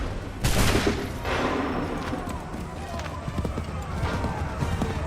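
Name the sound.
musket volley firing in video game Assassin's Creed 3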